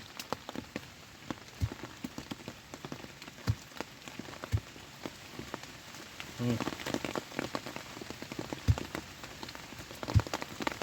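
Steady rain patters through a forest in the wet season, a continuous close hiss with scattered louder drops striking leaves and surfaces, with no voices.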